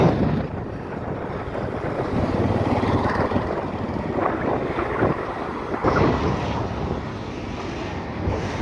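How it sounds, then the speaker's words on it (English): Strong wind on a street in Mombasa, Kenya, buffets and roars across the microphone in continuous gusts, loud and rumbling, with no voices heard. "Woo, it's windy."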